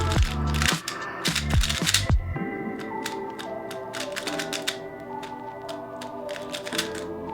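A Moyu RS3M 2020 speed cube is turned quickly by hand, giving bursts of sharp plastic clicks and clacks, loud and close, fast at first and then a steadier stream of lighter snaps.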